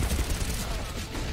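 Rapid gunfire from the video game Counter-Strike, a dense, loud burst of overlapping shots filling the short moment.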